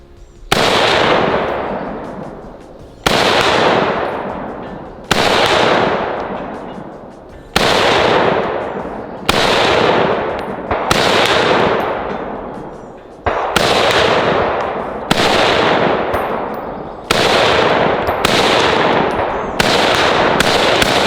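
A BM-59 rifle, close to the M14 in design, firing loud single shots outdoors, about ten sharp reports at a steady pace of roughly two seconds, each with a long ringing decay.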